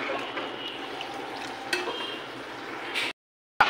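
Water runs steadily into a vessel in a home kitchen, a close, even rushing trickle that stops abruptly near the end.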